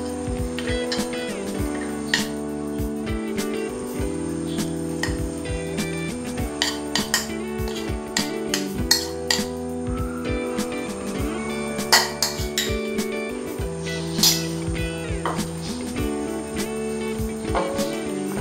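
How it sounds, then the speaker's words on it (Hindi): Spoon scraping and clinking against a dish as sprouted moong chaat is transferred into a serving dish, a series of light, irregular close metallic taps and scrapes with no talking. "अभी डिश में ट्रांसफर करते हैं।"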